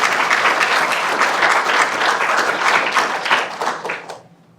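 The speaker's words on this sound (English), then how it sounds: "Can we just have a round of applause for the Nanga team that are here tonight?" A crowd gives sustained applause, dense clapping that fades out toward the end.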